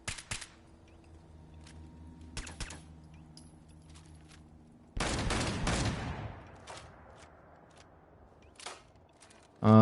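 Tommy gun in Fallout 4, with a dense, loud burst of automatic fire mid-clip after scattered clicks and single sharp cracks over a quiet humming background.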